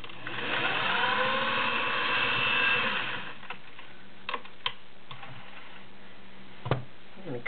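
A vintage Singer 404 Slant-O-Matic straight-stitch sewing machine runs fast through eight layers of cotton with a size 16 needle, giving a dense whirring chatter for about three seconds, then goes quiet apart from a few scattered clicks.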